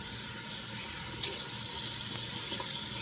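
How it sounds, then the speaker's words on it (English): Tap water runs steadily into a sink while a synthetic wig is rinsed, the flow growing louder and fuller partway through and then pouring on evenly, close and continuous with no talking. "let this water run."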